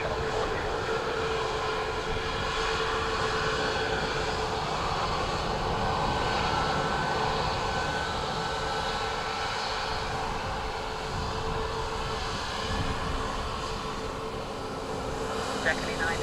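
A plane landing on runway 28 left at Dublin Airport, a steady broadband engine roar and rushing air holding at a fairly even level throughout, heard from a distance with faint voices underneath.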